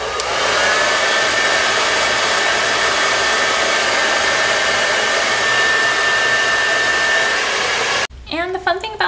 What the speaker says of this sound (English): let's turn on the blow dryer